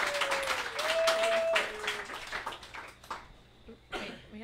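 Applause for Carolyn Caporusso at a talk on marine litter, a crowd clapping briskly at first with a faint tonal whistle over it, then thinning to scattered claps and a few voices as it dies away.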